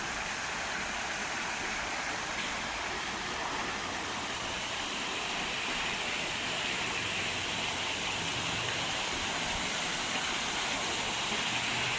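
Water from a feature beside the pool at a luxury home in The Grove, Nashville, pours in a steady, continuous splashing rush with no pauses or voices.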